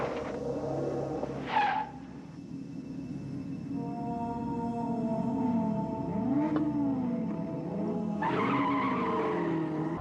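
Tires skid and squeal in a car chase scene from the film The Wraith, with a chasing police car, wavering squeal tones rising over engine noise that carries throughout, with a sharper burst early and another near the end.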